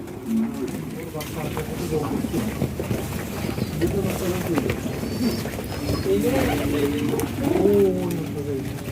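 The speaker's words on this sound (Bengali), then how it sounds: "এটা হচ্ছে পাঙ্কি কবুতর" Panky high-flying pigeons at a loft, soft cooing in a dense murmur beneath someone talking steadily close by.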